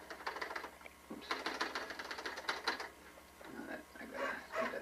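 A typewriter being typed on up close, its keys clacking in rapid, irregular bursts with brief pauses between runs, as a poet types up a sonnet.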